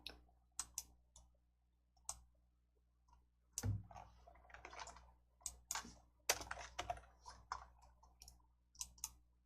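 Computer keyboard keys pressed for a Ctrl+F10 shortcut while working in a Korean word processor: sparse, close, crisp clicks and taps in irregular bursts, some clustered quickly, against near silence.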